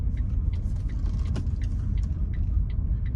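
Vehicle creeping at about five miles an hour through a mobile home park along Allegheny and Latrobe, a steady low engine and tyre rumble close by with no talk.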